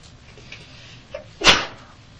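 One sharp, loud sneeze bursts out near the end of a quiet indoor room during a police interrogation, preceded by faint small noises.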